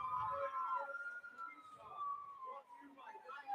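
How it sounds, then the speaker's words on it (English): Enforcers police car siren rolling along at a sports event, a wailing tone rising and falling at moderate distance, with crowd noise and voices beneath it. "And rolling along, too, that Enforcers police car."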